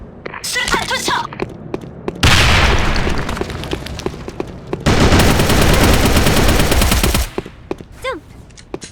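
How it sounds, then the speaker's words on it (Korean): Gunfire and explosive blasts in an online first-person shooter game, with a broadband boom around two seconds followed by sustained rapid firing, loud and close, and brief voice chatter near the start and end. "제가요 지금 수류탄 던지거든요. 수류탄 투척!"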